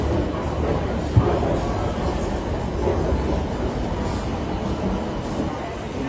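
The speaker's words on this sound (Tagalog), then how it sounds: "Okay. Train." A train at a station in Rome: a steady, moderate rail rumble fills the whole stretch, with one small click early on.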